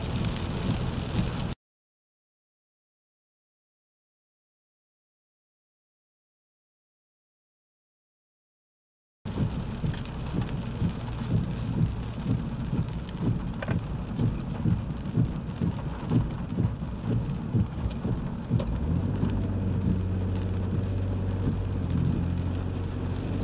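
Heavy rain hammers down during a severe thunderstorm near Coal City, Illinois, a dense steady roar with low rumbling underneath. A long stretch of complete silence cuts in early, then the downpour resumes.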